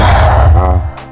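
A Minecraft Ravager lets out a loud, low, rough roar that swells and then trails off, followed by a brief breathy huff at the end.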